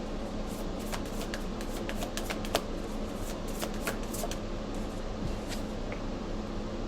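Tarot cards are shuffled by hand in a steady run of soft, rapid riffling and flicking, close by under a low background hum, with no talking.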